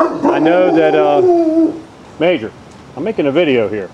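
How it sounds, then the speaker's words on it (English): A dog gives a loud, drawn-out vocal cry close to the microphone outdoors, followed by someone talking. "Pardon my dog."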